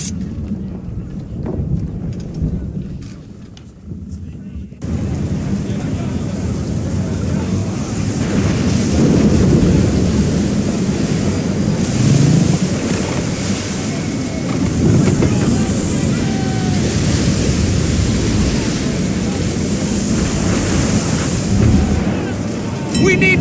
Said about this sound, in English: You wish us to sail into the storm?